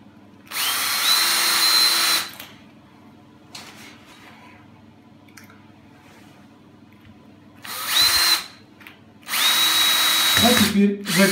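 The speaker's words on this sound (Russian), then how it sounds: "Сначала наживим все саморезы." A power drill drives self-tapping screws into a mount for a tropical rain shower mixer, in three loud whirring bursts separated by quieter handling noises, close to the microphone.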